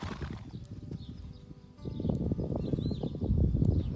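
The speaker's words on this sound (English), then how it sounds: "but there were also the horses." Horses on a farm in Portugal move about nearby, with shuffling hooves and snorting sounds that grow busier and louder toward the end, and faint bird calls in the background.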